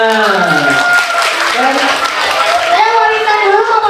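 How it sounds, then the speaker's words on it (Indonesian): A group claps along in a classroom-style gathering, a loose steady patter of hands running under several overlapping voices talking and laughing nearby. "Tepuk tangan."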